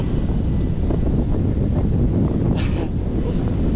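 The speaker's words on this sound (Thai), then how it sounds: "โอ้ลมโคตรดีเลย" Strong wind buffets the microphone during a trail run, with a steady broadband roar throughout and a brief hiss near the end.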